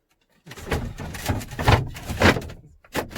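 A pull-out extendable bed unit in a Peugeot Expert van conversion being pushed shut: a close run of sliding scrapes and wooden thuds, then a short pause and a final knock.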